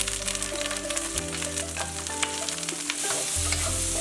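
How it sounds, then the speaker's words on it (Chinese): Eggplant stir-fried in cooking oil in a wok, a steady loud sizzle with repeated scraping stirs of the spatula throughout, no voices. "把茄子倒入锅中炒软。"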